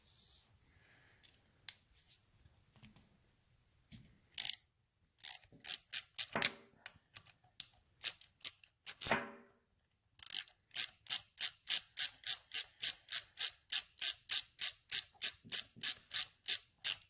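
A ratchet wrench loosens a bolt on a Harley-Davidson Model 61 two-brush generator: scattered clicks first, then loud, close bursts of ratcheting that settle into a long, steady run of rapid metallic clicks.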